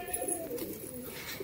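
A young pigeon, about three and a half months old, coos softly and steadily for a moment while being handled at close range, with no talk over it.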